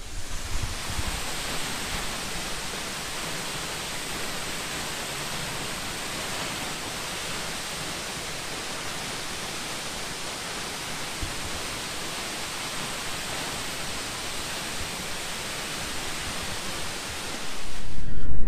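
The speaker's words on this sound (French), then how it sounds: "Bon allez, ces petites cascades, ce fut bien beau." Small waterfalls give a continuous broadband rush of falling water, steady and fairly close, with a brief burst of wind on the microphone near the end.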